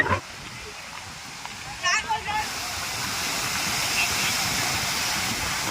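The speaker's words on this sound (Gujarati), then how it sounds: "એકદમ મસ્ત પાણીનો ફ્લો આવે છે" Loud, continuous roar of water rushing from an opened dam gate, like a powerful torrent nearby, with a voice briefly speaking over it early on.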